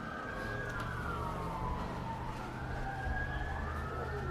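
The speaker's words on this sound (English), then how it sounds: "There's sirens everywhere." A wailing siren rises and falls in the distance in the middle of town, over a low hum of traffic and engine noise.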